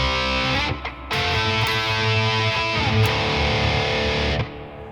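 A distorted electric guitar plays the intro riff of a song, with thick, sustained, gritty chords and a brief pick-scrape, loud and close, then cuts off near the end.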